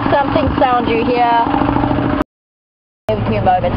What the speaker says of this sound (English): the pump is going to make so much noise that I probably won't hear anything coming